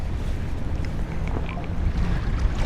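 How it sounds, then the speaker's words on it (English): Steady wind gusts across open water during a fishing trip from a boat, a constant broad rush with microphone buffeting and faint lapping underneath, with no talking. "Yeah, that wind's come in."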